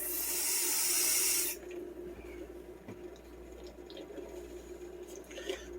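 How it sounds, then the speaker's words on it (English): Tap water runs strongly into a tomato sauce box in a kitchen for about a second and a half, a bright rushing hiss, then stops, leaving faint drips and small sloshing sounds close by. "I'm going to go ahead and rinse this tomato sauce box out right quick."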